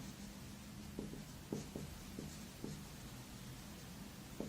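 Marker or chalk writing on a classroom board during a seventh-grade maths lesson, heard as a short series of faint scratchy strokes in irregular rhythm over a quiet room.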